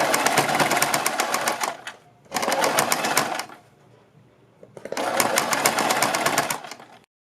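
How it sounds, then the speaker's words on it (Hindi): Sewing machine stitching fine lace onto a kurti neckline, running in three loud, rapid bursts of clattering needle strokes separated by short pauses. "यहाँ पर इस पट्टी के ऊपर हम इस तरह से इसको रखेंगे और इसके ऊपर सिलाई लगा देंगे।"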